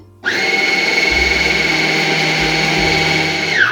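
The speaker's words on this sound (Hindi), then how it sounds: "अब मिर्चों को चॉपर के अंदर डाल के पीस लेंगे।" An electric chopper grinds roughly chopped green chillies, its motor whirring loud and steady for about three seconds before spinning down at the end; no voices.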